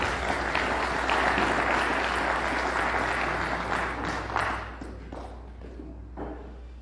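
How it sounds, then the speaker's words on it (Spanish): An audience at a national civil engineering seminar applauds its first speaker, a dense, loud burst of clapping over a low hum that thins out after a few seconds into scattered individual claps. "Un fuerte voto de aplausos para nuestro primer ponente de hoy"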